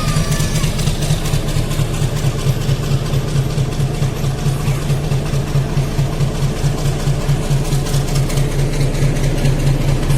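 A metre gauge locomotive, running without carriages, idles steadily nearby, a deep rhythmic throb with a constant mechanical rumble and no voices.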